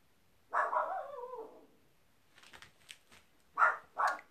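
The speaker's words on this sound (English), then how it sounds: "There goes the dog again." A dog barks indoors: a drawn-out whining bark first, then after a pause a few short sharp barks, fairly close and clear with no talk over it.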